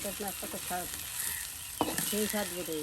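Moringa leaves crackle as they fry in oil, a steady, close hiss running the whole time, while a voice speaks briefly at the start and again near the end.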